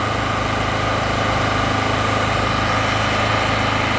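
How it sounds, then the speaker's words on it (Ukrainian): A portable generator with about 113 running hours on it runs steadily at close range, its engine drone loud, even and continuous throughout with no voices. "Даний генератор у мене вже не перший місяць, відпрацював 113 годин."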